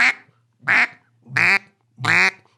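Four loud, evenly spaced quacking blasts from a handheld duck call, each a harsh, nasal burst about half a second long, close and clear with short silences between them and no talking.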